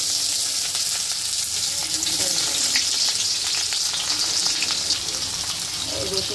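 Chopped onion frying in hot oil with cumin and garlic for an oyster mushroom dish, giving a loud, dense, continuous sizzle that holds steady throughout with no voices.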